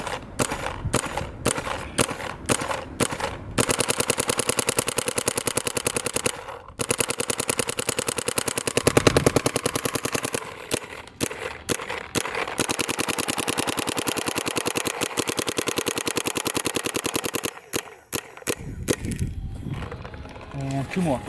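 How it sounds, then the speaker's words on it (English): A paintball marker, an LV 1.5 fitted with an HK Army LAZR barrel, fires long rapid-fire bursts of sharp cracking shots that run nearly continuously, with short gaps. It is loud and close, with a voice briefly heard. "I'm actually gonna go ahead and shoot the entire hopper this time"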